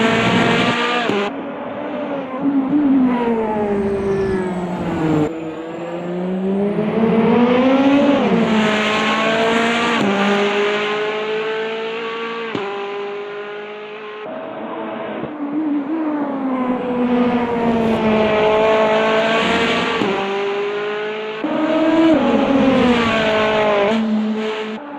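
A race car in the Automobilista 2 racing sim, heard from an outside view, screams continuously through rising and falling revs and gear shifts, loud and close for the whole stretch.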